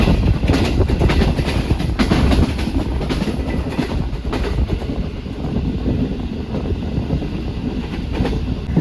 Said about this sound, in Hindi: जुमाकोट से भी खैर अच्छी रफ्तार में गुजर गई हमारी ट्रेन और इतनी स्मूथ चल रही है।